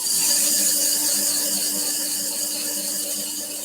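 Abrasive paper at 100 grit pressed against a wooden box spinning on a woodturning lathe, giving a steady, bright hiss with a faint whine beneath that stays loud and continuous throughout.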